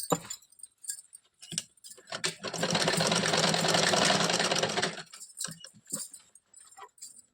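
Sewing machine stitching seams along a one-inch margin on an Afghani salwar, a steady run of motor whir and needle chatter lasting a few seconds, framed by quieter handling clicks and cloth rustles before and after.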